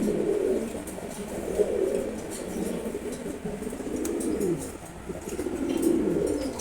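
Red checkered pigeons coo in repeated low, throaty bursts, close and clear, with soft rustling in the background and no talking.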